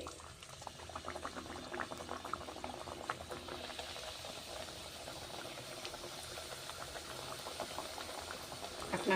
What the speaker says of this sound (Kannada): ಹಾಕಿ ಕರಿಯಿರಿ.